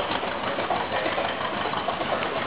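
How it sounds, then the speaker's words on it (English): An antique tractor engine runs at a tractor and steam engine show in Alpena, Michigan, giving a steady, close, rapid chugging idle without pause. "Probably the fucking first tractor ever made."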